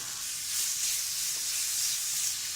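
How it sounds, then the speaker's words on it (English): Curried vegetables give off a soft, steady sizzle and hiss as they fry in a pan, with no voices and no break in the sound. "Give it a quick fry so it's all cooked through."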